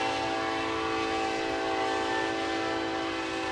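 A BNSF train passes on the main line beside a dirt raceway, its horn blaring in a loud, sustained chord over steady rolling rumble, with no talk heard.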